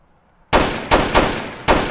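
Gunfire in the Roblox game South London 2: four loud, sharp shots with short decaying tails, the first after a brief silence and the rest in quick, uneven succession.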